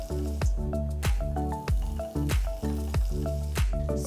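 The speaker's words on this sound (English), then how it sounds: "add a little butter." Butter sizzling in a hot pan before corn cheese fritters are cooked, a steady close crackle with regular pulsing surges, loud and alone.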